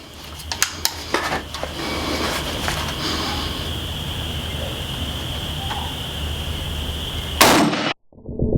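Several sharp 7.62x39 AK rifle shots ring out in quick succession at the start, each striking an AR500 steel target with a metallic clang. A steady outdoor wash and a sustained tone fill the gap before a loud close burst and an abrupt cutoff.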